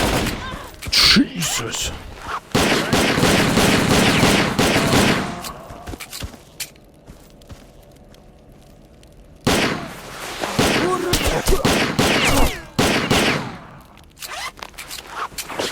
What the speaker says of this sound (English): Those are just warning shots.